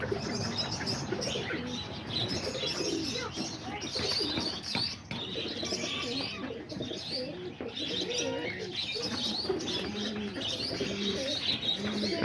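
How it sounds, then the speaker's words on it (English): Pigeons, including rollers, coo and chirp steadily around a feeding spot outdoors, a dense continuous chorus of soft calls with occasional wing flutters, close by and with no talking. "But there's all the pigeons right there."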